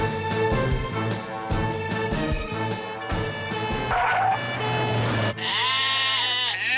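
A wavering, bleating sheep call in a cartoon rises near the end over a steady, loud bed of music.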